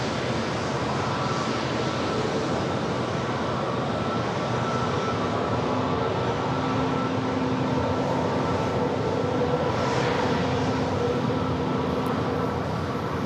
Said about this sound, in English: This is that pretty brand new A321neo with United, just delivered in July.